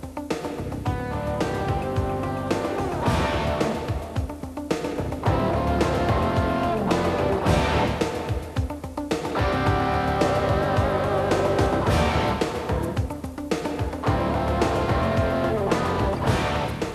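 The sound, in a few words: Nissan 100NX T-Bar car driving on the road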